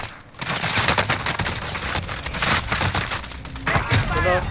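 Gunfire in a Malaysian action film, rapid bursts of sharp cracking shots in irregular volleys, loud and close, with people talking between and over the shooting.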